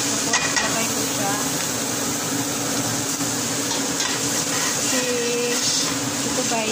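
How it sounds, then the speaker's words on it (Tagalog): Ground beef with onion and garlic sautéing in a pan, a loud continuous sizzle with light stirring scrapes and clinks throughout, no voices heard. "igisa ako ng sibuyas at saka bawang"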